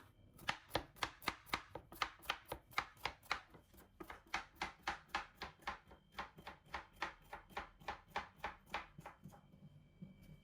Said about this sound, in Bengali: তো আমি সুন্দর করে কুচি কুচি করে কেটে নিতে আসি করলাগুলো